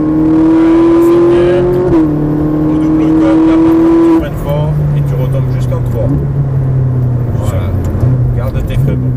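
A Ferrari 458 Italia accelerates around a race circuit, its engine howling at high pitch and climbing through the revs. Partway through, a gearshift drops the note before it climbs again, loud and close as if from the cabin, with a person speaking over it.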